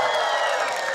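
Applause and crowd noise from an audience at a live Lenten sarsuela, a dense steady wash of clapping and cheering heard close and full throughout the short moment.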